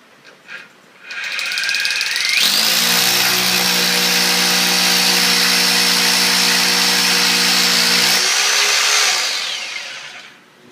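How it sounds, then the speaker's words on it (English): A loud hammer drill bores into concrete, whining up to speed and holding a steady, grinding drone for several seconds before spinning down, with no talking. "Take you a good hammer drill, drill your holes"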